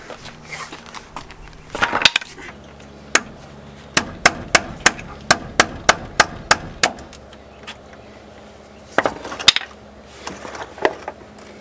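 A big hammer knocking a pin out of Honda Fit suspension during a coilover install, a series of sharp metallic strikes in a steady rhythm, close and loud, with a pause and a few more blows afterward.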